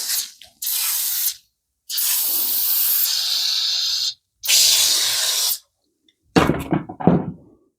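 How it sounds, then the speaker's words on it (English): Chain and cable lube hisses from an aerosol can onto rusty metal in three long bursts with short pauses between them, then some brief dripping, sputtering spritzes, close and loud, with no talking. "I'm not using a penetrating lubricant. I'm using chain and cable lube."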